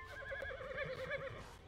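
A horse whinnies in the Rival Stars Horse Racing video game, a clear, wavering neigh rising and falling over under two seconds, heard alone against soft background game sound.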